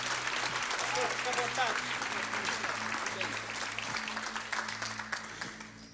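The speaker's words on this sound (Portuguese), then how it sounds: "aplaudir ao Senhor Jesus uma vez mais?" A church congregation claps steadily and densely throughout, loud and continuous, with a low sustained tone underneath and tapering slightly toward the end.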